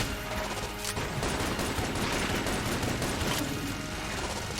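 Dense, continuous volleys of shotgun fire in the Enter the Gungeon game, loud and steady throughout with blasts overlapping into a constant barrage and no talking.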